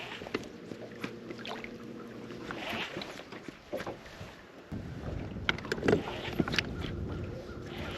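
Wind gusts buffet the microphone on a lake during a bass fishing trip, a rough, fluctuating low roar with a few knocks and bumps from the boat, fairly quiet throughout.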